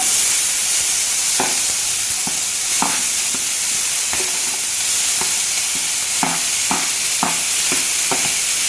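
Mixed vegetables sizzle steadily in a hot, lightly oiled pan, a constant bright hiss with repeated scraping stirs, close up and with no one speaking.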